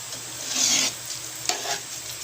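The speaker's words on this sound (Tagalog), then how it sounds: "palalaputin hanggang ay eh. hanggang lumapot. Sige lang halo niyan." A thickening chocolate mixture for Samar-style chocolate bakintol is stirred in a pan, making a close, soft scraping swish in a couple of strokes with a faint sizzle and no talk.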